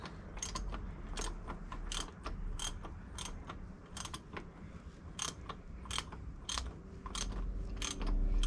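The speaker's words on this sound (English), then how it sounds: "And get a big old ratchet way up here." A big ratchet clicks away at the last nut on an old machine under restoration, with a steady series of sharp close ticks over a low background hum.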